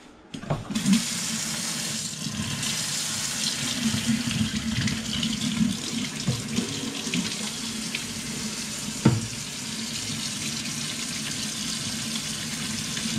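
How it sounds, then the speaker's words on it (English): Water runs steadily from a kitchen tap for hand washing while cooking chicken meatballs in tomato sauce, a continuous broadband splash with a brief clatter near the end, no talking. "wash my hands one second"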